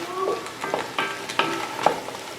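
A spoon stirs two cans of petite diced tomatoes into a Cajun keto stew in a pot, giving a few soft, wet scraping strokes over a low background hiss.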